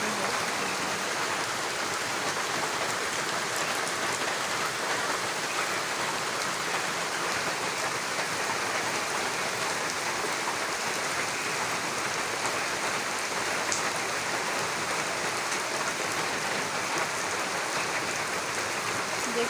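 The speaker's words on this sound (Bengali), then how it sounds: "কি সুন্দর বৃষ্টি হচ্ছে।" Steady heavy rain falling at night, heard from a veranda, a dense continuous hiss with no pauses and fairly loud throughout.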